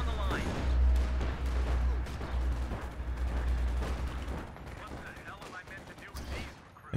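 Battlefield gunfire from G43 rifles in the Company of Heroes 2 video game, a dense rumble of shots and explosions with low booms throughout, under faint game-commentary talk.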